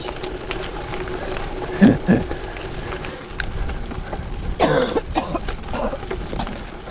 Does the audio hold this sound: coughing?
yes